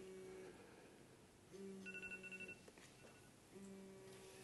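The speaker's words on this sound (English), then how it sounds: "I think somebody's phone's ringing here" A mobile phone rings somewhere in the audience at a talk on optical fibre, a faint warbling ringtone repeating in short bursts over the quiet room hum, distant and with no one speaking over it.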